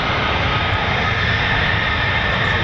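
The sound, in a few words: USAF fighter jet taking off at airshow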